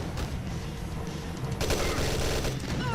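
In the Operation Serpent video game, a boss fires rockets and guns in a dense, constant barrage of blasts and rapid shots. It is loud throughout and gets heavier about halfway in.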